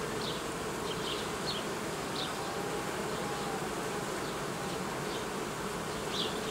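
Steady, dense buzzing of many honey bees, continuous and close, with faint higher whines drifting in and out.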